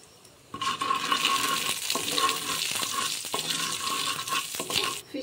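Black cumin seeds hit hot oil in a frying pan for a lentil dish. A dense sizzle erupts after a brief quiet start and continues steadily, broken by occasional scraping stirs.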